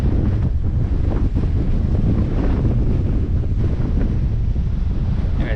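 A strong east wind blows at a beach, battering the microphone with loud, continuous rumbling buffets over the wash of surf, and no voice can be heard.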